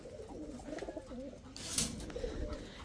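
Indian Hyderabadi blue pigeons in a cage give soft, low, throaty coos in a rolling murmur, close and quiet, with a brief rustle or flutter partway through.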